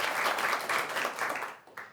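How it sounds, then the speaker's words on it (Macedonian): Recorded applause sound effect triggered from a remote, a steady burst of clapping lasting under two seconds, cutting off briefly near the end before a short resumption. "Еве ти аплауз."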